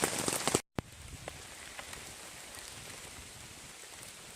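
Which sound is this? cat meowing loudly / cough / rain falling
rain falling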